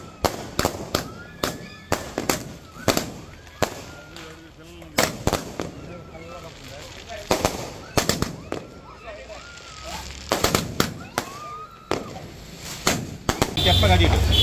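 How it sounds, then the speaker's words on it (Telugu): Fireworks and firecrackers set off with children at a police station: repeated sharp bangs and crackling bursts in irregular clusters, some loud and close, with voices and crowd noise between them. "పోలీస్ స్టేషన్ లో పిల్లలతో కలిసి బాణసంచా కాల్చారు."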